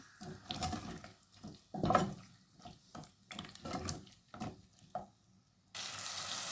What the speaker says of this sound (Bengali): রসুনটারে ব্রাউন কালার করে ভেজে নিচ্ছি।